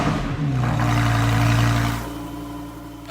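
A Lamborghini Huracan's 5.2-liter V10 runs loud and close, swelling into a sustained rev that holds for about a second before dropping back to a steady idle; no one speaks.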